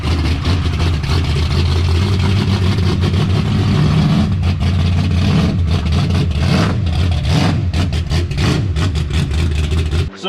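A Dodge Challenger with a 440 V8 idles with a loud, lumpy rumble, then blips and revs in uneven bursts, close and steady throughout without talk.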